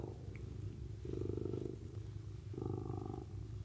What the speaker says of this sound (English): Hello, Mr. Kitty